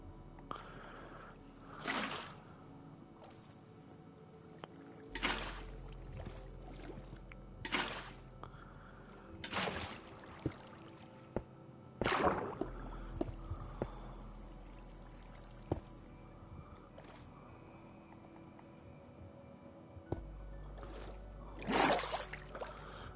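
Water pouring and splashing in Minecraft in repeated short bursts separated by quiet gaps, over a faint low background hum.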